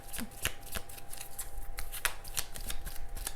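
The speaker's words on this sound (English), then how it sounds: "If you guys have ever tried to shuffle heart-shaped cards, it's quite a doozy" Heart-shaped cards are shuffled by hand in a quiet room, giving a steady run of soft riffling flicks and taps, close and clear, with no voices.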